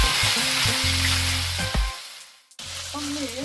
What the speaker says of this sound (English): I'm going to drop my meat in and start stir frying